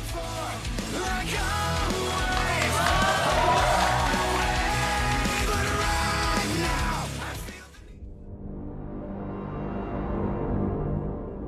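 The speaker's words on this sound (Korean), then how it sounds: "큰 박수 부탁드립니다" Audience applause at a Sbenu StarLeague StarCraft II esports match, a dense, loud wash of crowd noise lasting about seven seconds before cutting off abruptly to a quieter room background.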